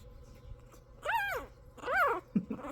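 Goldendoodle puppies from an apricot litter whimper in two drawn-out, rising-and-falling whines close by, followed by a short yip, over a quiet room background.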